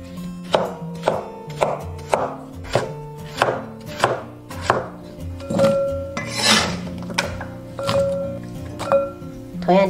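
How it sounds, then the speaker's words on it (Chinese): Knife chopping washed, unpeeled radish into strips on a cutting board, a close, steady series of crisp thuds about once a second, with the blade rasping through the crunchy root. "把洗好的萝卜改刀切条"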